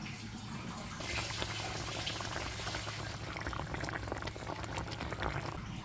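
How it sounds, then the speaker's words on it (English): Pork chops simmer in a covered pan on low heat, giving a steady, faint bubbling and hissing wash that runs throughout without talk. "I'm gonna cover my pan up and I'm gonna turn it down and low and let it cook for about 45 minutes"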